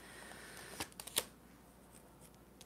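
Tarot cards being shuffled during a reading: a few crisp riffles and snaps close by, clustered in the first half, then quieter handling, with no talking.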